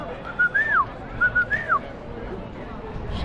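A person whistles a two-part family call twice, a short flat note and then a rising-falling swoop, fairly faint against a low murmur of background crowd noise.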